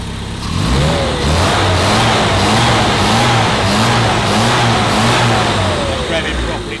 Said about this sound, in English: Revving properly now, whereas it didn't rev before.